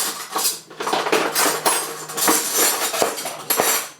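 Kitchen knives and cutlery clatter and clink as they are dropped into a drawer after unloading a Miele G4203 SC Active dishwasher, a busy run of close metallic knocks and rattles with a few sharper taps.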